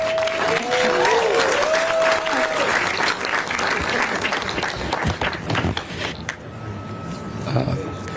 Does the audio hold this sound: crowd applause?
yes